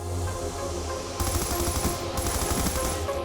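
LSAT light machine gun firing in a shooter video game, a rapid sustained burst of loud automatic gunfire starting partway in over a background hum, with a short break before firing resumes.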